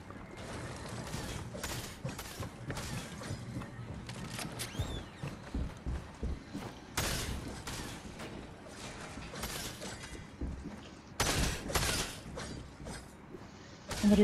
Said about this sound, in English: That was such a slow fucking pump shotgun.